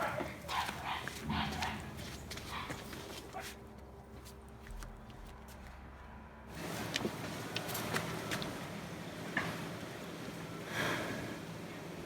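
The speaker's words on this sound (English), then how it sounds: "Is that a rooster or a dog? I think it's a rooster and a dog fighting." A dog and a rooster clash in a scuffle of barks, snorts and scrambling movement, loud and close at first, easing briefly before the noisy commotion resumes.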